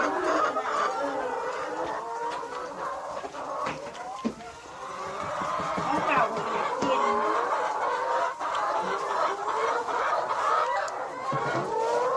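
Chickens feeding on a farm give a steady chorus of clucks and soft calls, with a rooster crowing faintly. Someone talks quietly over them throughout.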